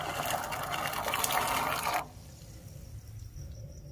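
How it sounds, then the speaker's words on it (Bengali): Green peas poured into a pot of hot water, a dense rushing patter for about two seconds that stops abruptly and leaves a quiet background hum. "এখন আমি এই জলের মধ্যে দিয়ে দেব মটরশুঁটি।"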